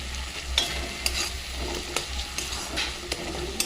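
Softened tomatoes with a little sugar fry in a pan, giving a continuous close sizzle broken by regular spatula scrapes and taps, with no voices over it.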